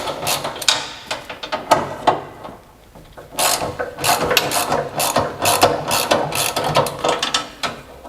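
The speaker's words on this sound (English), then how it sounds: "So I'm going to slightly loosen the bracket on this end" Ratchet clicking in short bursts as bolts on a fuel tank skid plate bracket are loosened, with pauses between runs of close, crisp pawl clicks and no talking.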